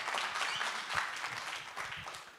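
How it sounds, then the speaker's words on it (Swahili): Audience clapping for a woman named Ann at a Safaricom Safire Connect gathering in Nairobi, a dense, even wash of applause from many people throughout the short clip. "Makofi kwa Ann tafadhali"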